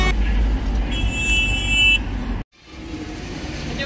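Vehicles pass along a road through quiet forest with a loud, steady rumble of traffic and a brief horn-like tone, then the sound cuts out abruptly before the road noise swells back.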